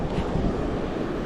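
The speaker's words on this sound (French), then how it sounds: "il y a un peu de vent, mais il n'y a pas de grosses vagues" Sea waves wash onto a shore while light wind buffets the microphone, a steady, close rumbling roar during a surfcasting outing.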